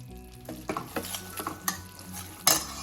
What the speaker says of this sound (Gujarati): આવી રીતે એને શેકાવા દેવાનું છે. હજુ પણ થોડી વાર શેકાવા દઈશું.